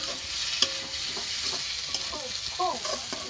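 Rice frying with soybean and egg sizzles steadily in a pan, with a utensil scraping and stirring in repeated strokes, close and continuous without speech.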